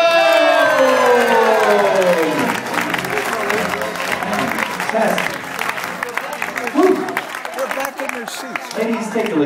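A hypnotist show crowd cheers loudly with whoops and shouts, settling into sustained clapping and scattered yells, close and energetic throughout.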